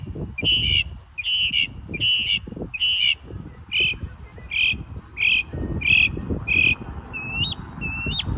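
A bird sings a series of repeated bright whistled chirps at a steady pace, close by, over low background rustling and murmuring.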